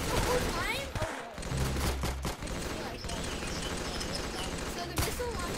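Rapid gunfire from a Roblox shooter game, bursts of shots crackling under continuous in-game noise and players chatting over it.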